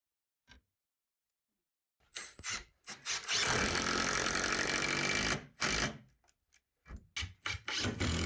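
Screws driven diagonally into wooden floor joists during a tatami room conversion to wood flooring: a power driver whirs in one sustained burst, with shorter bursts and sharp wooden knocks around it, close and clear.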